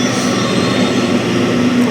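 A MEMU train pulls slowly into a platform, a steady loud rolling rumble with a faint high wheel squeal running through, no voices.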